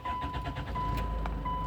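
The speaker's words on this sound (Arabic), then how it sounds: "شوفوا طبعا السيارة اشتغلت معنا." A 2008 Hyundai Tucson with a crankshaft sensor fault cranks and starts, its engine settling into a steady close running rumble with a brief higher whirr partway through.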